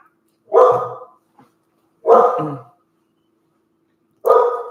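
A dog barks in three separate bursts spaced about two seconds apart, each bark loud and close, with silence in between.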